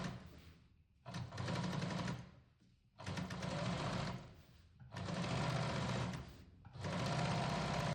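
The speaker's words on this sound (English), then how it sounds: "sew very near to your initial seam while securing all seam allowances to your facing pieces" A sewing machine stitches a blouse facing and neckline in four steady runs of fast, whirring needle rattle, each separated by a brief pause, close and fairly quiet.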